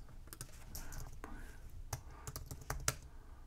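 Rapid clicking keystrokes on a computer keyboard as a word is typed into a website search field, irregular taps of varying strength, fairly close and clear over a faint room background.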